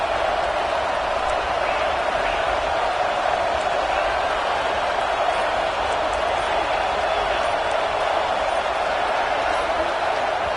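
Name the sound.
stadium crowd noise at football game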